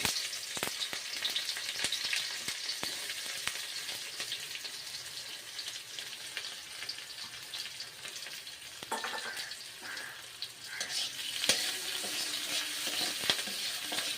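Onions frying in a pan of oil with a little sugar, a steady close-up sizzle and crackle with stirring scrapes, continuous for the whole stretch and slightly busier toward the end, with no voices.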